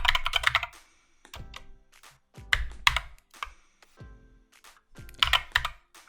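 Computer keyboard typing JavaScript code for a Node.js server file: close, crisp key clicks in short irregular bursts separated by brief pauses.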